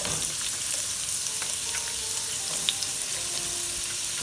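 Carrot and cauliflower fry in a pan for a vegan Thai green curry, a steady close sizzle with faint crackles and no voices over it.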